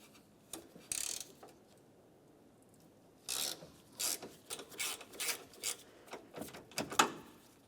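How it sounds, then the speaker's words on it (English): Ratchet with a 5mm Allen head socket turning out the front bumper impact absorber mounting screws on a 2006-2011 Honda Civic: quiet, close clicking and grinding in short irregular bursts, several in quick succession, with no talk. "you'll find that you need to use a 5mm Allen head socket. We'll put this right in place and turn these counterclockwise to remove them"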